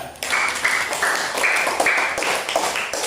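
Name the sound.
applause for group 3 in classroom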